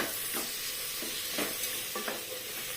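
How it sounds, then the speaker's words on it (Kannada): Fenugreek leaves fry in hot oil, a close steady sizzle broken by several soft scraping stir strokes at irregular intervals, with no voices. "ಅದನ್ನು ಹಾಕಿ ಒಮ್ಮೆ ಫ್ರೈ ಮಾಡುವ ಈ ಎಣ್ಣೆಯಲ್ಲಿ ಸ್ವಲ್ಪ ಬಾಡಿಸಿಕೊಂಡ್ರೆ ಆಯಿತು"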